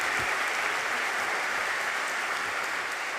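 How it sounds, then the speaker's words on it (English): Steady, dense applause from an audience at a civic talk event on sustainable city planning in Sydney, continuous and fairly loud for the whole stretch with no voice over it. "absolutely, keep clapping while I talk."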